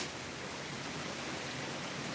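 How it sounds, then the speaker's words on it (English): Heavy rain pours down outdoors in a steady, dense hiss with no pauses, a constant wash of noise and no voices. "I love this rain."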